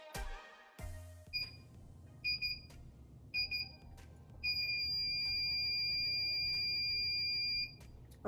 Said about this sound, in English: it started beeping right when it got to 5 seconds remaining